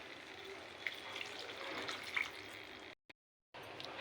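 Water is poured into a pan of ivy gourd curry on the stove, a steady hissing, splashing pour lasting a few seconds, close and fairly quiet, before a brief silence.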